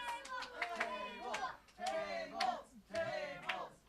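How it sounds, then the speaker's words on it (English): A live wrestling show crowd chants in loud rhythmic bursts, calling for a table, with clapping mixed into the repeated shouts. "Crowd's calling for a table."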